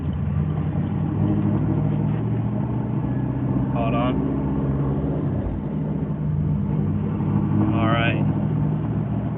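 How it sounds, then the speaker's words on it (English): Car engine running under steady load, the revs sagging as the car slows, a continuous low drone beneath someone speaking throughout. "Notice when you go to slow down, RPMs drop like stupid fast."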